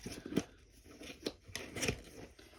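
Scissors cutting open a cardboard box indoors: a few sharp crunching snips spaced irregularly, close and fairly loud, with quiet rustling between cuts and no talking.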